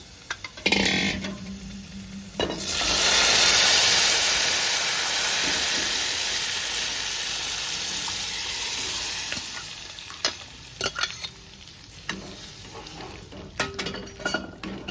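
Dal tipped into a large hot tempering fries with a loud, steady sizzle and hiss that swells early, then settles into softer crackling with occasional clinks of a utensil, no voices.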